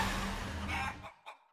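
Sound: chicken clucking in Guacamelee 2 video game

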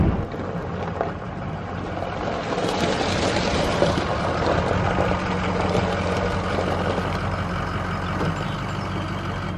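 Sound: Ford F350 pickup truck engine

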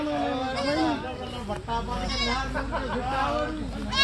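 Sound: goat bleating at a goat market

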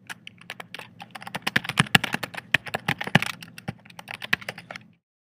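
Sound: typing an email address on a computer keyboard

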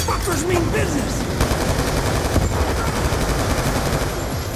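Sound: gun turrets firing in video game Black Ops 2

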